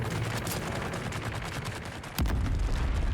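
Rapid gunfire rattles through a player-versus-player fight in the Dune: Awakening video game, a dense, loud volley that runs continuously and then gives way to a heavy booming rumble near the end.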